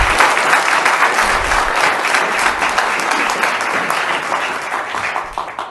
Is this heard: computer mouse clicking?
no